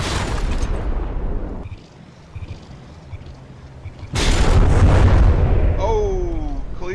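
Warship cannon volleys in the naval combat game From The Depths, with booming artillery blasts and rumbling impacts at the start and a louder sustained barrage later, followed by whistling tones near the end.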